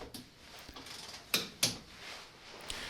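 A torque wrench with a 16mm socket tightens the crush tubes under a Mini One R50 with a Tritec engine to 100 Nm. A few quiet, close ratcheting clicks sound, with two sharper snaps in the middle.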